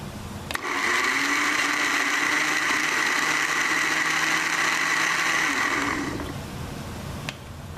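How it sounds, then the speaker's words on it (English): A blender purees taco sauce for Papa Ranchera tacos in one loud, steady whir lasting about six seconds, starting abruptly and winding down near the end, with no talk over it. "we're going to cover it up and we're going to puree it."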